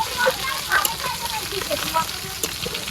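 Tomatoes hit fried spices in a pan in a village kitchen, with fried fish nearby, giving a steady moderate sizzle broken by a few light stirring clicks, with faint voices in the background.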